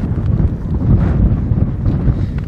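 Strong gusting wind buffets the microphone outdoors on a desert hike, a loud, steady roar with rising and falling gusts and no voices.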